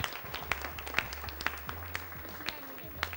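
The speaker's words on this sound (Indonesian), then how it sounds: "tepuk tangan dong buat Mbak Vina dong." Scattered applause from an audience at a women's motivational seminar session, soft and sparse with a few distinct claps, while a low hum and some voices sit underneath.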